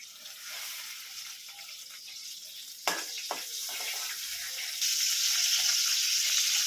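Cumin seeds and curry leaves dropped into hot oil in a kadhai, a steady hiss that jumps with a sharp crackle midway and grows into a louder, brighter sizzle toward the end, close and without talk.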